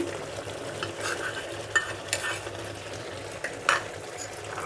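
Fried paneer tipped into a kadai and stirred with the spiced masala, a soft background sizzle with scattered spatula scrapes and clinks against the pan, close by.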